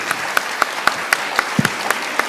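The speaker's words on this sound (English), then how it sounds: "Can we have a round of applause for our authors?" Applause for poets and authors on a Miami Book Fair panel: sparse, crisp claps arriving in a fairly even rhythm, close and clear over a quiet room, with no voices.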